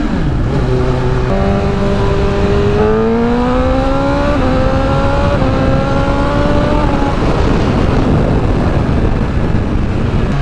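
A motorcycle with an aftermarket exhaust revs loudly and close, its pitch climbing in stepped surges before settling into a steady roar, recorded after an oil change.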